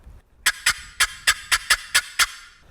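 Turkey box call cutting, the lid popped under thumb pressure: eight sharp, raspy clucks come close and loud in a quick, slightly uneven rhythm, with no voices.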